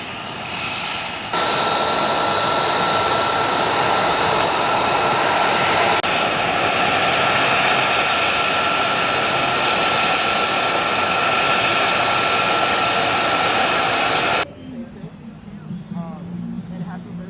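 A C-47 airplane at an air force airshow, its piston engines giving a loud, steady, close drone for most of the stretch before cutting off sharply. Voices can be heard over the engine noise.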